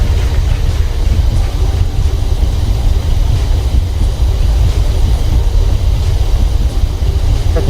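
Boeing 737-800 thrust reversers roar on landing in a flight simulator game, a loud, steady, low rumbling wash of engine noise that holds constant throughout with no talk over it.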